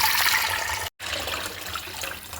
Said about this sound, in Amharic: ከዛ ውሃ እንሞላበታለን።